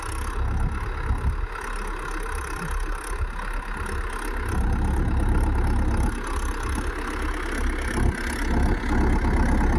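A vehicle engine idles steadily in a field while ploughing, a continuous low rumble that holds close and loud throughout.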